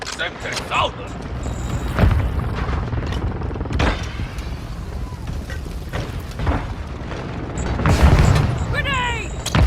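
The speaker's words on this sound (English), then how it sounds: "Friendly airstrike in the AO." Booming airstrike explosions and gunfire in the Warzone Mobile team deathmatch video game, with heavy blasts near 2 and 8 seconds amid continuous battle noise and occasional voice chatter.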